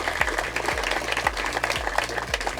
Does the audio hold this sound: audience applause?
yes